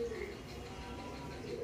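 Pigeons at a Bengali pigeon loft give a low, soft cooing that runs steadily through the short moment, close by, with no talk over it.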